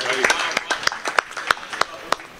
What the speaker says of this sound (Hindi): आप अपने लिए तालियां बजाएं